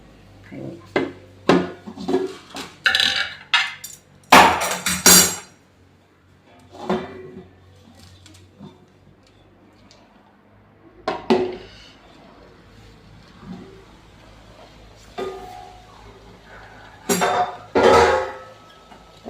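A cooking pot of Hyderabadi chicken biryani is set onto a hot tawa griddle, with a run of close, sharp metallic clanks and scrapes in irregular bursts separated by quiet gaps.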